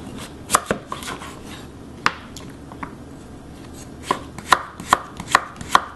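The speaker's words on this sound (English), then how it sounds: "Just thinly slice." A knife thinly slicing a carrot on a cutting board in a kitchen, with crisp, close chopping taps, a few scattered at first and then a quicker run of regular cuts toward the end.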